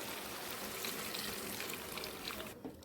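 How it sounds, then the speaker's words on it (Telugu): Hot cooking water is poured steadily into skinless chicken for a simple chicken curry, a close, quiet, continuous splashing that stops near the end. "ఇందాక ఎసరు పెట్టుకున్నాం కదా ఆ వాటర్ని చికెన్లోకి పోసుకుందాం"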